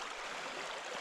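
River in Chiloé running high with lots of water, a soft, continuous broadband rush of flowing water, steady and fairly faint, with no voices over it.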